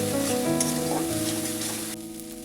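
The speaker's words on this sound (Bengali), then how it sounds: "পোস্তর সঙ্গে ভালো করে মশলাটা আমি কষিয়ে নিব।" Spice paste mixed with poppy seed paste and a splash of water sizzles steadily in a pan for a Bengali eggplant-and-hilsa dish, with a few stirring scrapes, close and continuous, fading slightly at the end.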